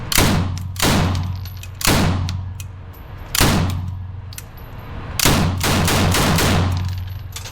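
A firearm fires at a shooting range in single sharp, loud reports, five shots spaced roughly one to two seconds apart, each followed by a ringing echo and a low hum.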